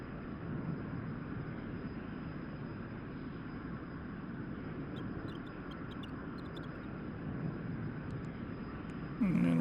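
Steady, loud jet engine roar from an F-100D Super Sabre in the DCS flight simulator as it comes out of afterburner, a dense continuous rumble with a faint high whine and a brief thump near the end.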